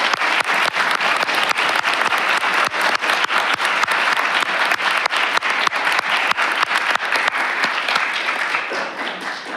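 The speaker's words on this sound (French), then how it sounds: "si j'ai le droit de demander une main d'applaudissement pour Madame la Présidente" A city council chamber in Longueuil applauds the council president. Loud, close, crisp hand claps beat in a brisk continuous round that eases slightly toward the end.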